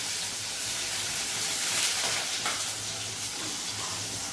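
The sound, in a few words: onions frying in a pan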